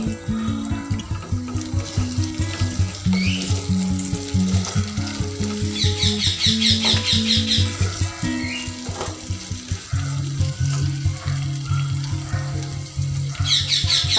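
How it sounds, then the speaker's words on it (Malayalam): Chopped onion is frying in a pan with garlic, a steady close sizzle that runs throughout, with stirring and clinks of the utensil against the pan. "അപ്പൊ നമുക്ക് ഇതിലേക്ക് അരിഞ്ഞു വെച്ച ഉള്ളി ചേർത്ത് കൊടുക്കാം."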